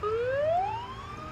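A siren rises in pitch in one short sweeping wail, clear and moderately loud, with no voices.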